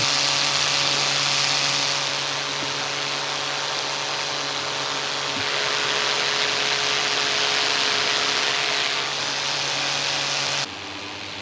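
A paramotor engine at full throttle, heard through a helmet microphone, gives a loud, steady buzzing drone with a tonal hum that swells slightly and continues without talking.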